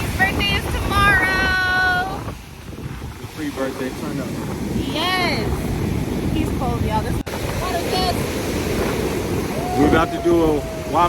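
Surf rolling onto the long sandy shore of Waimanalo Bay on Oahu, a continuous broad wash of breaking waves buffeted by wind noise, with people talking and exclaiming over it.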